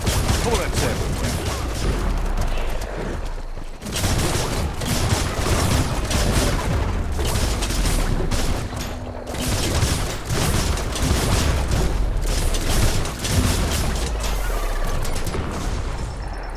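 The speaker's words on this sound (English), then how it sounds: "Bullets everywhere." Gunfire in Biomutant: dense bursts of shooting and clattering impacts in rapid volleys, loud and sustained, with brief pauses between flurries.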